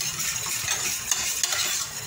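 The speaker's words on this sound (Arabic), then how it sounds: "غادي نطرب هادشي مزيان حتى ما كيبقاش لي هذوك الكويرات" A spoon whisking a batter mixture in a bowl, a continuous soft scraping and stirring swish with a couple of light clinks, close and steady.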